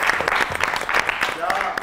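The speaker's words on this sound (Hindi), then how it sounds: "तालियां बनती है यार" Brief burst of audience applause on a comedy talk show, quick clapping mixed with voices and laughter.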